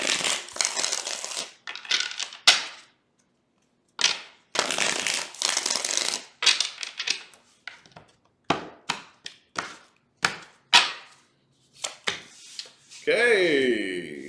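Close, crisp riffles and snapping of a tarot deck, several shuffles in quick succession with brief gaps, and a voice speaking near the end.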